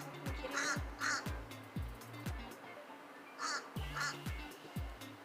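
A crow caws outdoors in two pairs of harsh, loud calls separated by a pause, over a steady pattern of low rhythmic thumps and background noise.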